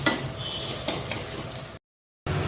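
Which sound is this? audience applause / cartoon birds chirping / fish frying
fish frying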